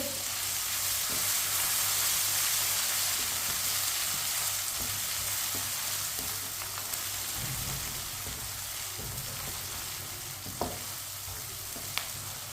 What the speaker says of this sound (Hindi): 1 चम्मच कुटा हुआ लहसुन, आधा चम्मच कुटा हुआ अदरक मिक्स कर लेंगे